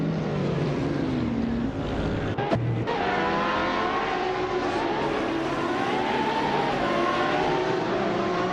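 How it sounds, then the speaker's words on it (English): Racing cars in a video game, led by a 1996 Ferrari F50 GT, give a continuous engine drone with shifting whining revs and a brief sharp knock partway through, loud and steady with no talking. "Leading the pack is Hingle McCringleberry in a 1996 Ferrari F50 GT, a classic 1990s supercar"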